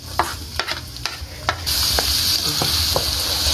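Chopped onion and garlic hit hot cooking oil for adobong kangkong, first with scattered stirring scrapes, then bursting into a loud, steady, close sizzle that carries through to the end with no talking.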